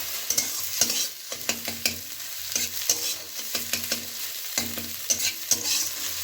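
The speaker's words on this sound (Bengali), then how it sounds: "দিয়ে ডিমটাকে আমি ঝুরি ভাজা করে নিচ্ছি একটু" Beaten egg sizzles and scrambles in a wok of mustard oil, lightly salted, with repeated scraping stirs and clinks of the spatula over a soft frying hiss, close and without talk.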